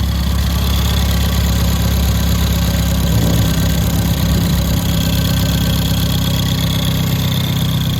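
A Ford Fiesta ST engine idles loud and close, a steady low rumble with a faint rhythmic knock that holds unchanged throughout, with no voices.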